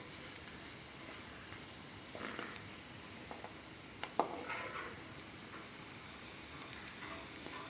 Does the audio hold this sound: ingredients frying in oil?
yes